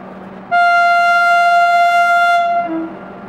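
A goods train coming down a hill sounds a long, loud, steady horn blast lasting about two seconds, followed by a brief lower tone, with a quiet rumble before and after.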